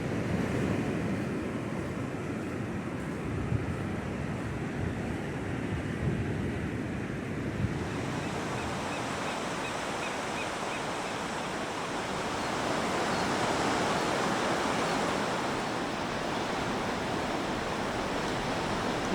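Steady ocean surf washing onto the beach at Bandon, a continuous broadband roar of breaking waves with wind, growing fuller and louder partway through, no voices.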